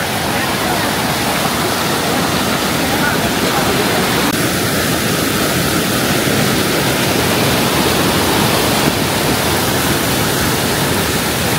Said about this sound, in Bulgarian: Много як водопад